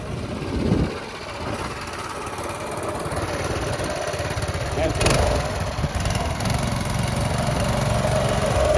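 A 6.5 hp Honda gas engine drives a friction-drive bicycle with a continuous, mid-pitched running drone like a lawn mower. It holds steady at moderate distance while people talk over it.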